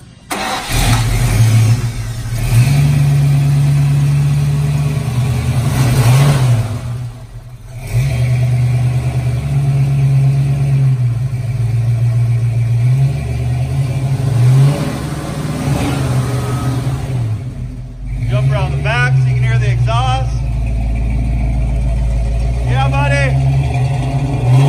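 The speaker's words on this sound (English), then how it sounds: "give you a cold start so you can hear this thing run" A car engine cold-starts and then runs steadily, its low idle hum loud and close throughout with a brief dip and a revving surge partway; people talk over it now and then.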